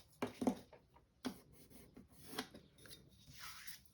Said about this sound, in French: je la pose le long de mon carton. Je tire un trait.